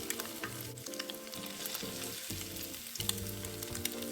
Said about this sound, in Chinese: 边挤入边将定型后的豆腐虾球翻面，炉一直保持中火，一直油炸至金黄色后才捞起